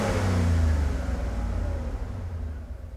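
Mercedes 500SL engine with tuned CIS injection accelerating, a smooth rising rumble that starts loud and eases off as the revs climb. No voices are heard.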